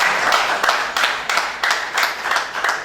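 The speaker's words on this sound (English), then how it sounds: "I am applauding, and I think we should all be applauding for them." An audience applauds at a school reunion gathering, a steady, fairly loud roll of many hands clapping that swells in faint pulses, with no talk over it.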